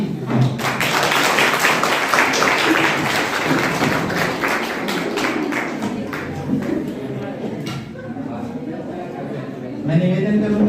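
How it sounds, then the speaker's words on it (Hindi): An audience at a government degree college ceremony in Nainidanda claps steadily. The dense applause fades as someone speaks over it through a microphone. "तालियां कमजोर हो रही हैं आपकी।"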